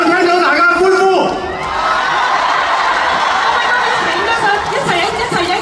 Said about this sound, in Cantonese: 我想聽到大家歡呼。